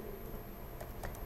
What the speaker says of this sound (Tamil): இன்டெக்ரல் டைப் பண்ணுறேன்